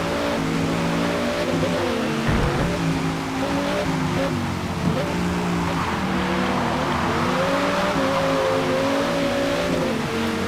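A Dodge Viper ACR's V10 engine roars in a racing video game, holding a loud, steady, rising drone with shifting pitch as the car accelerates through a race; no talking is heard.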